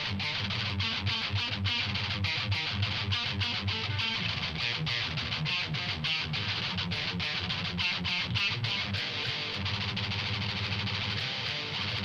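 Heavily distorted electric guitar riffs with a death metal tone play loud and dense for the whole stretch, with a rapid, chugging rhythm and no talking over them.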